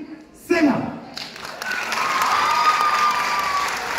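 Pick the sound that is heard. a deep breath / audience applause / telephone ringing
audience applause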